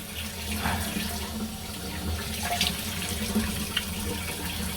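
Water running steadily from a tap while a safety razor is rinsed, a continuous close splashing hiss with brief clinks.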